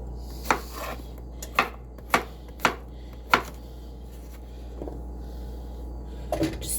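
Knife chops come down on a cutting board in a kitchen, five sharp, close thuds at an uneven pace, then a pause and a couple of softer knocks.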